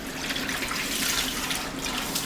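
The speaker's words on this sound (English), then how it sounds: "So now that we've rinsed your hair" Water runs steadily from a tap while hair is rinsed during a wash-and-go routine for kinky hair, a close, continuous hissing splash with no talking.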